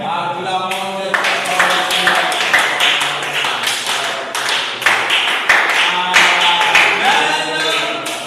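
A church congregation in Sébikhotane, Senegal claps in acclaim, a dense rhythmic run of hand claps going on steadily throughout, close and lively, with voices mixed in.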